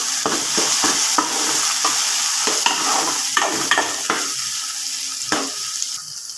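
Chili powder being stirred into fried onions in a pan produces a continuous sizzle. Repeated sharp scraping strokes of the spoon run through it in an irregular rhythm, close and fairly loud.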